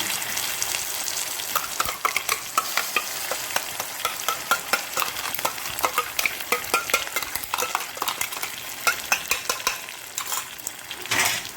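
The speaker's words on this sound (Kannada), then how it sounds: "ಇದನ್ನು ಚೆನ್ನಾಗಿ ಇದರಲ್ಲಿ ಹುರಿದುಕೊಳ್ಳೋಣ." Ground masala paste frying with browned onions in a pan, a steady dense sizzle punctuated by frequent sharp scrapes and taps of a stirring spoon, close and continuous with no talking.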